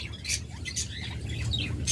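A pair of pet birds, sold as a breeding pair that has already laid eggs and raised young, gives several sharp squawks and calls at close range over a steady low background murmur.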